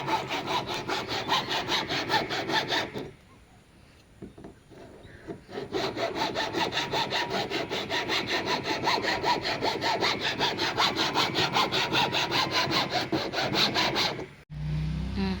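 A hand saw cuts through wood in a garden setting, with rapid rhythmic back-and-forth rasping strokes, close and steady, pausing once briefly before sawing resumes.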